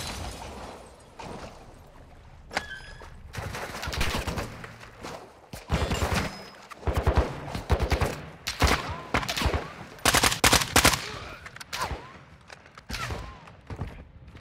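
Rapid bursts of gunfire in the video game Call of Duty DMZ, with sharp automatic volleys and single cracks cutting in and out over fourteen seconds, some near and loud, others more distant.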